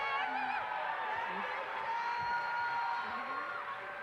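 A crowd of fans, mostly women, cheers steadily for Big Tish, a sustained wash of high voices and whoops filling the whole stretch at an even, fairly loud level.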